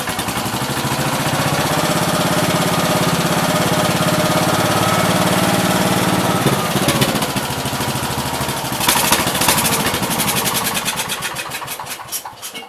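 A rebuilt 1969 Gravely 432 tractor engine runs steadily at close range with a loud, even drone, its note shifting near the end as it sputters a little, with no talk over it.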